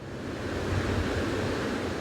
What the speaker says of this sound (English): The mighty waves of the Pacific pound the shoreline